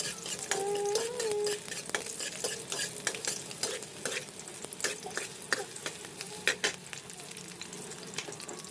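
Onions frying in a pan, a steady bright sizzle broken by repeated stirring scrapes and clicks, close and fairly loud, with a brief tonal squeak near the start and no talking.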